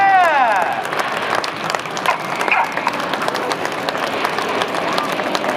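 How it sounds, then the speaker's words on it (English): An airshow crowd at Sunderland in 2014 applauds the Red Arrows synchro pair, steady dense clapping rolling on throughout, with a voice talking over it. "please a big round of applause for the fabulous synchro pair"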